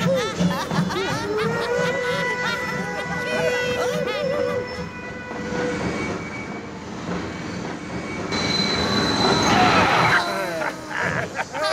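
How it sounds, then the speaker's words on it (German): A cartoon train in a children's animated Christmas episode rumbles in and runs with rolling, rhythmic rail noise and a rising squeal, steady and fairly loud, while characters speak over it. "Worauf warten wir denn? Auf den Zug."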